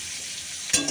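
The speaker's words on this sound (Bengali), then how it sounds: "এই যে আলুটা দিয়ে দেবো তেলের মধ্যে।" Potato pieces go into hot oil: a faint steady hiss suddenly bursts into a loud, close sizzle near the end, with no voices.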